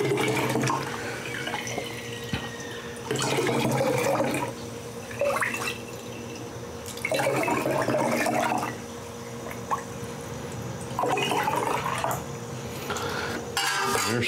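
Cranberry jalapeno moonshine poured into glass jars in several separate bursts of liquid splashing, with clinks of glass between pours and no talking.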